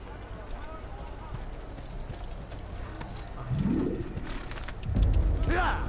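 Horse hooves clip-clop steadily at a walking pace in the video game Assassin's Creed, with birds cooing in the background and a voice cutting in briefly.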